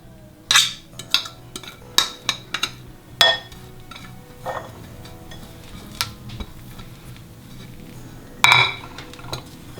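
A fork scrapes and clinks against a bowl while working butter into flour for quiche pastry, giving a series of sharp metallic taps and scrapes, some louder than others, close up with no talking.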